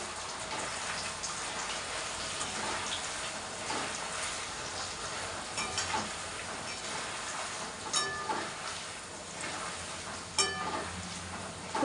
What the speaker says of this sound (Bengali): এই যে পনিরগুলো ভাজা হয়ে গেছে, হালকা ফ্রাই করেছি কেবল।